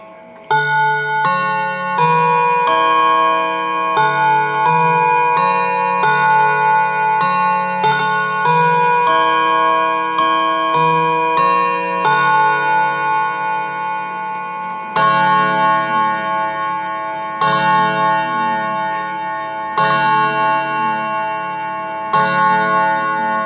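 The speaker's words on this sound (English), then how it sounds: "the clock chimes really well" A German Napoleon hat mantel clock plays a long Westminster chime melody, bright bell-like tones ringing out in sequence and then striking, with a soft ticking beneath.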